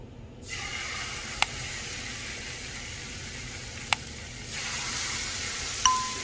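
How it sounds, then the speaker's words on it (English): A salmon fillet goes skin side down into a lightly oiled pan, setting off a steady, moderate sizzle that swells a little louder partway through, with a few sharp clicks and taps of the pan. "And then I'll put my fish skin side down."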